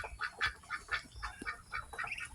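Several ducks, Peking and Muscovy breeders on a duck farm, quack repeatedly in short nasal bursts, fairly faint and a little distant, overlapping in an irregular rhythm.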